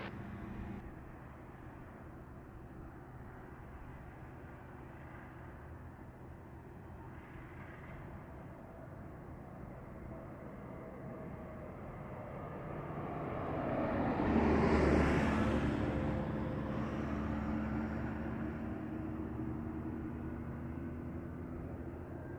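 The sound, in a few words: LATAM Airlines airplane landing at Montego Bay airport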